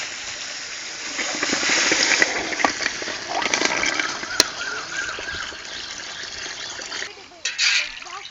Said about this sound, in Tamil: தேவையான அளவு தண்ணி ஊத்திக்கலாம்.